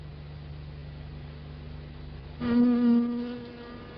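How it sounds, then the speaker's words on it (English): A small yellow and black striped honeybee in an Australian garden hums in a close, steady drone that suddenly swells louder and higher partway through before easing back. "The small yellow and black striped honeybee that we see so often in our gardens"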